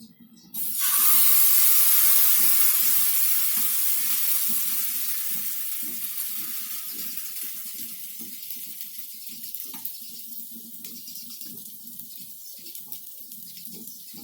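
Batter of rice flour, sesame and jaggery for a sweet pancake hits hot oil with a sudden loud hiss that then settles into a steady, slowly fading sizzle with faint scraping beneath it.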